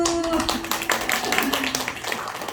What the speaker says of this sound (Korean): 두 분이서 박수.